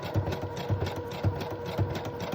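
A sewing machine runs a steady zigzag stitch along the edge of a paper junk journal folio, with an even, rapid mechanical chatter close by and no talking.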